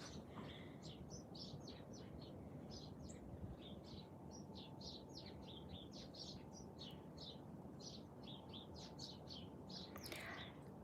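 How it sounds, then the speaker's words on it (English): Birds chirping in a steady stream of short, high calls over a constant background hiss, moderately distant. "Let's listen to the birds."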